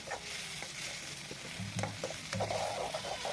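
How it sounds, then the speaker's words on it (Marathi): Tomatoes and chilies sautéed in a pan over a wood-fired stove for upma, a continuous bright sizzle with low scraping stir strokes underneath, close and steady, with no speech. "टमाटर टाकल्यानंतर छान असं परतून घ्यायचं"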